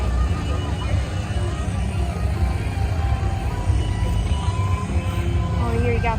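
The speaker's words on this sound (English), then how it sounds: "This engine over here. It's a bit loud here, as you guys can hear." An old Chevrolet Stingray engine idles at an outdoor park car show, a steady loud low rumble filling the background throughout while someone talks over it.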